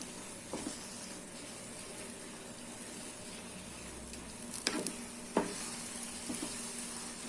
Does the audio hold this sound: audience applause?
no